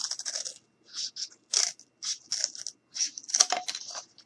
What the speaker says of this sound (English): And I'm just going to take my scissors and I'm just going to cut.